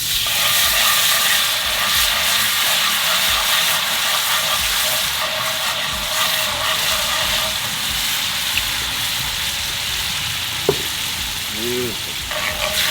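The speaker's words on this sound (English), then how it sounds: "Next thing we need to do is deglaze. So we're gonna get some white wine right in there." White wine hits a hot pan to deglaze it for a blackened filet mignon Alfredo, giving a loud, steady sizzle and hiss that runs throughout, with a brief spoken word near the end.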